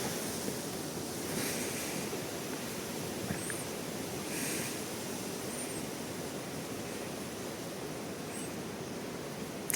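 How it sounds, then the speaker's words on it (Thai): Strong wind roars steadily outdoors during a bird hunt, a dense unbroken rush filling the whole clip with a few faint chirps on top. "ลมแรงขนาด"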